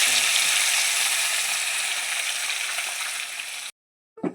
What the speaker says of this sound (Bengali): তেল গরম হয়ে গেছে, নুন হলুদ মাখানো মাছটা আমি দিয়ে দেবো